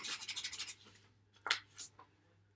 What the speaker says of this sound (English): Don't have to sand it too hard. Like I said, it's more or less just to take the gloss off.